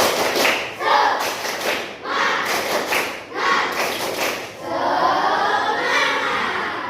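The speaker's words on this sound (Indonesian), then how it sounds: "Coba tepuk semangat dulu. Tepuk semangat." A classroom of pupils does a rhythmic spirit clap in patterned bursts, with groups of claps separated by short pauses, and children's voices chanting and calling along, ending in a longer stretch of chatter.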